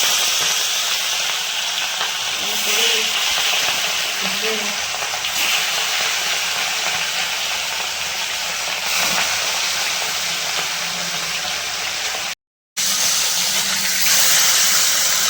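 Large fish pieces fry in plenty of hot oil with a loud, continuous hissing sizzle that holds steady for the whole stretch, broken only by one brief dropout near the end.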